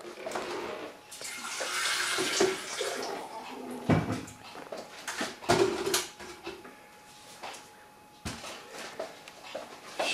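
Water from a tap splashes and runs steadily into a basin, with brief clatters and pauses, fairly close and moderately loud.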